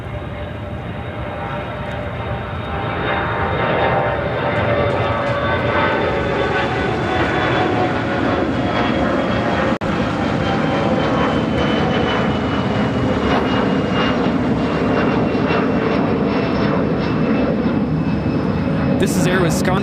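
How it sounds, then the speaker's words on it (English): An Air Wisconsin CRJ200 regional jet takes off at O'Hare, a loud, steady engine roar building and holding as the aircraft rolls and climbs, with people talking faintly beneath it. "This is Air Wisconsin Flight 6078 taking off to Wichita on the CRJ200 LR in the retro livery."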